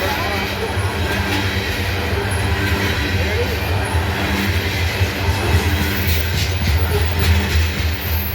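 A freight train passing the depot in Abbeville, heading south from Greenwood toward Atlanta, gives a steady loud rumble of rolling wagons with faint clatter and squeals, while someone talks over it.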